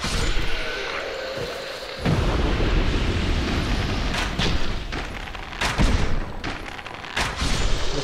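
Gunfire in the video game Dark Souls II, with loud booming blasts and sharp cracks over a dense rumbling game backdrop and several distinct bursts toward the end.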